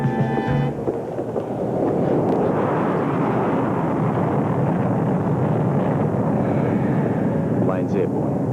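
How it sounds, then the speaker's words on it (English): A passenger plane taking off in a soap-opera scene, a loud sustained roaring rumble of jet engines that swells and persists throughout, with voices around it. "Plane's airborne."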